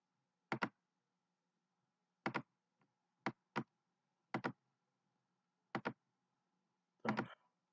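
A computer mouse clicks in short, sharp bursts, several single and double clicks spaced irregularly across a quiet room, close and distinct with no talking.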